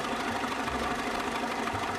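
Tractor engine plowing a field in Farming Simulator 13: a steady, knocking mid-pitched drone that holds constant throughout, with no talk.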